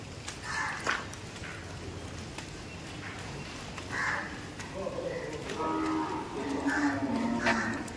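Cows mooing at a goshala cow shelter, several low calls rising in the latter half over steady crowd and yard noise, with scattered higher cries and faint voices in the background.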